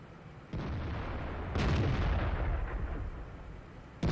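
Tank cannon fire in the video game World of Tanks comes as deep, heavy booms that roll on and on. A loud blast near the middle and another at the end sit over a constant low rumble of battle, with no voices.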